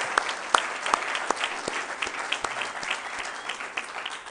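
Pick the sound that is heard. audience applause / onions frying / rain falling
audience applause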